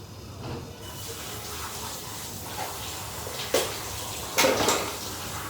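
Spinach is rinsed under a running kitchen tap, with a steady hiss of flowing water and a couple of louder splashes as leaves are moved about, close by.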